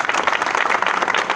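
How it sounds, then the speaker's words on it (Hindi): Dense, loud applause from an audience at an achiever celebration honouring a car award, a brief burst of many hands clapping together without talk. "आप जोरदार तालियां बजाएं"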